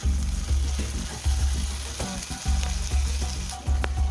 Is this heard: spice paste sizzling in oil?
yes